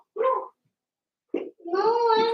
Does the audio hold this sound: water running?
no